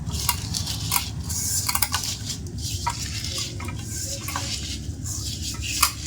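Chili paste is mashed and rubbed with oil, producing close, wet squishing and scraping with clinks of utensil on a pot, irregular and continuous.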